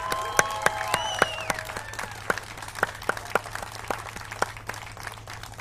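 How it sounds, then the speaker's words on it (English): Sparse, scattered claps from a small crowd honour newly sworn-in military recruits at a White House event, individual sharp hand claps ringing out over a steady low hum, with a few faint voices overlapping early on. "Let's give these applicants a round of applause."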